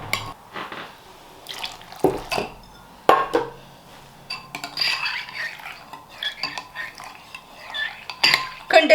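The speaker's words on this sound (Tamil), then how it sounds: "நல்லா வடிவாக கரைச்சி விடுங்க." A spoon clinks and scrapes against a bowl while jelly powder is stirred into water to dissolve it, in irregular bursts of metallic tapping and light swishing.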